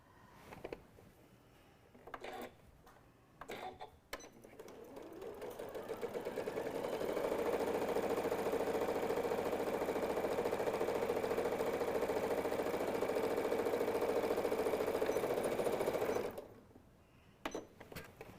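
A sewing machine chain pieces fabric pieces for a stuffed nativity scene, running in a long steady hum-and-clatter burst after a few short starts and handling knocks, then stopping abruptly.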